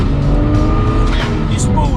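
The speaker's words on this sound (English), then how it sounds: "The spool from the Pure600 turbos is savage." Loud, steady engine roar from a BMW 135i with an N54 engine fitted with Pure600 turbos, pulling hard under acceleration with a rising tone and faint chirps, continuous for two seconds.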